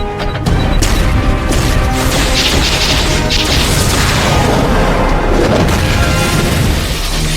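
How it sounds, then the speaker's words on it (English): Artillery strikes pound down in the superhero game DC Universe Online as a loud, sustained barrage of crashing booms and rumbling blasts that runs without letup. "Cyborg, concentrate fire on Luthor while I call down some artillery."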